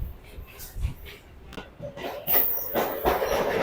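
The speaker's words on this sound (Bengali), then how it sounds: "আমাদের ট্রেনটা এই বিবেকানন্দ সেতুর উপর দিয়ে যাচ্ছে" Local train on the Sealdah–Dankuni line crossing the Vivekananda bridge over the Ganges, with a close, loud rumbling clatter of wheels and carriages and a rising squeal of metal as it rolls on.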